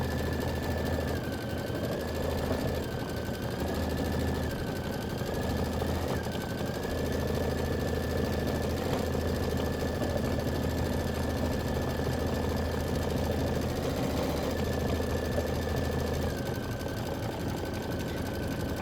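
An embroidery machine stitching a Kimberbell Star Spangled Beauty quilt block runs as a steady mechanical hum with a rapid stitching rattle and a whining tone that dips now and then, continuous and alone.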